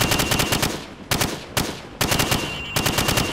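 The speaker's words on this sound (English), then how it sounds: "Now, shoot at the targets while firing from the hip." A rifle fired from the hip at targets in the video game Call of Duty 4, with five loud bursts of rapid automatic shots separated by brief gaps.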